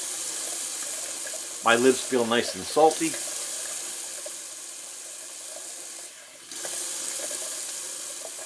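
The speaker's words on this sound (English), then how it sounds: "Alright, so now I'm just gonna throw a little cold water," Cold water runs steadily from a bathroom tap as a face is rinsed after a wet shave, a continuous close hiss that briefly dips near the end; someone speaks a short sentence over it early on.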